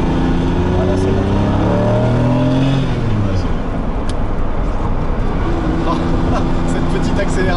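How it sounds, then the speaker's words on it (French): A Lamborghini Diablo accelerates hard in first gear from close by, its engine note climbing in a rising sweep and then settling into a rough, loud roar. "Cette petite accélération en première"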